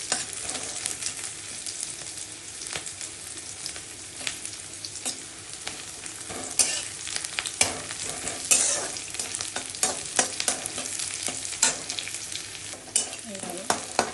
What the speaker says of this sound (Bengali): পেঁয়াজ, রসুন, কাঁচা লঙ্কা, কালো জিরা, শুকনো লঙ্কা সব একসাথে ভেজে নিচ্ছি।